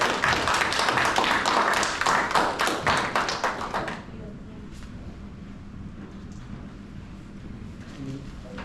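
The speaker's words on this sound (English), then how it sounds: "Please, small round of applause." A small round of applause at a Python meetup in Melbourne: dense, even clapping from a modest crowd for about four seconds, then it stops and only a quiet room murmur remains.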